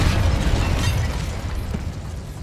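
A Confringo fire spell blasts inside a tomb in Hogwarts Legacy, a loud, deep booming explosion with a rumbling low-end roar that fades slowly over a couple of seconds, with no voices.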